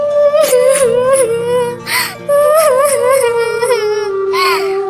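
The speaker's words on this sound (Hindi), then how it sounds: "टुनटुनी की रोने की आवाज सुनकर रानी चिड़िया वहाँ आती है।" A cartoon bird character cries, a high, wavering wail rising and falling in long sobbing cries, close and loud, with a few short breaks between cries.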